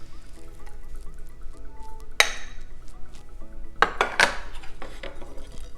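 A spoon scoops cheesy potato breakfast skillet out of the pan, with a few sharp metal scrapes and clinks against the cookware, close and loud, spaced out between quiet stretches.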